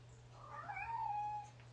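A house cat gives a single drawn-out meow, rising then falling, heard close and fairly clear over a steady low electrical hum, with no talking.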